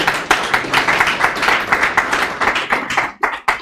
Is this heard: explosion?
no